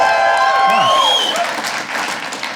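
A comedy club audience bursts into loud applause and cheering with shouts rising above it, close and dense at first and then gradually thinning out, with voices mixed into the noise.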